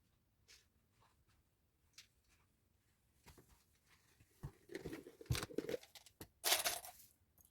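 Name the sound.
scissors cutting pinned fabric pieces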